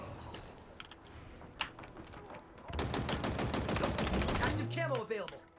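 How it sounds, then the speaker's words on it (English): Rapid gunfire crackles through a firefight in Halo Infinite, with a dense continuous burst of shots taking over midway, under voices and other game sounds. "Shoot him with a pistol, bro"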